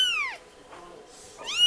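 Kitten meows from a litter of four: a high, sliding mew at the start and another at the end, close and clear, with quiet room noise between them.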